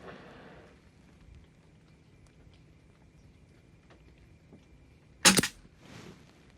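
A single sharp, close crack from a Rossi Montenegro .22 LR rifle breaks an otherwise quiet outdoor stretch, followed by a short fading echo.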